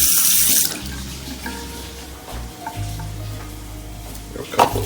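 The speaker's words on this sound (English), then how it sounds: "Got a sink here with hot and cold running water." Water gushes briefly from a tap into a hotel room sink, then stops, followed by quiet clinks and handling noises nearby.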